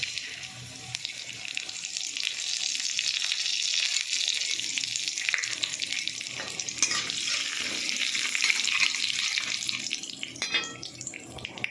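Asafoetida, dried chillies, cumin, mustard seeds and fenugreek frying in hot oil for a tempering, giving a continuous bright crackling sizzle with occasional spatters and scrapes, close and steady throughout.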